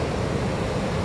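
Flowing water near Rohtang, Manali, a steady, dense rush of stream or river noise, close and fairly loud, unbroken throughout.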